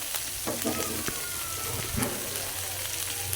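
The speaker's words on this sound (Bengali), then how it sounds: "এখন মশলাটা দিচ্ছি, এখন ভালো করে ভাজে নিই।" Spices frying in a hot pan, a constant loud sizzle broken by scraping stirs and a few sharp pops, close up.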